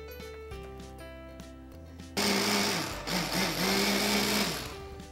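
A food processor blending broth into a sauce for guinea fowl starts up abruptly after a quieter kitchen lead-in, then whirs loudly and steadily with slight dips in pitch as the load shifts.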